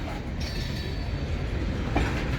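A Wheeling & Lake Erie freight train led by EMD locomotives at notch 8 rolls over jointed rail, giving a steady, moderately close rumble with faint wheel clatter and a brief clank near the end.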